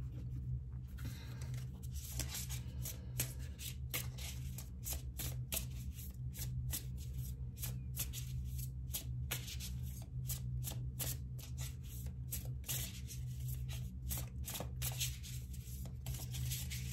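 Tarot cards being shuffled by hand, a long run of quick papery riffles and slaps in repeated bursts, close and fairly quiet over a low steady background hum, with no voices.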